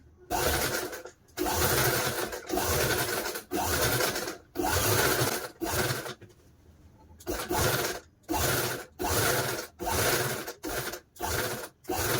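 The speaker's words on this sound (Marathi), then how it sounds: "आता हा जो उरलेला भाग आहे तो शिवून घेणार आहोत।" Sewing machine stitching the remaining part of a fabric puja seat cover: close, loud bursts of rapid mechanical clatter, each lasting a second or so, separated by short pauses.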